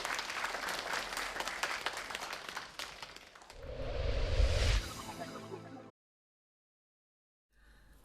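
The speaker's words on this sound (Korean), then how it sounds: "연출자와 배우, 스태프진에게 아낌없는 박수를 보냈습니다" A theatre audience applauds the director, actors and staff, with dense clapping for about three seconds, then a swelling musical sting, a sudden cut to silence, and quiet sound returning at the end.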